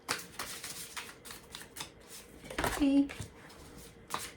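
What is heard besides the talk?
shuffling cards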